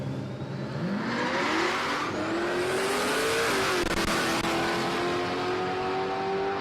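A Holden VK Calais drag racing at Palmyra Raceway roars loudly with engine revs climbing steadily as it accelerates, a continuous sustained engine tone with faint tire squeal early on.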